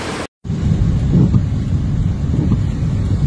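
A hailstorm pounds down in Spain and France near the Soses–Alcarràs road, a loud, dense, continuous roar of hail with wind buffeting, broken by a brief silent gap at the very start.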